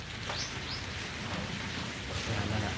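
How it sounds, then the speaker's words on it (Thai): Steady rain pours down during a storm at a resort, a soft, even hiss of drops that stays faint and continuous without any voices. "ฝนตกครับ"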